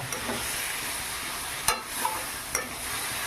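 A vegetarian curry of tender drumstick stalks sizzles in a pan while a spoon stirs it, giving a steady hiss broken by a few sharp scraping strokes.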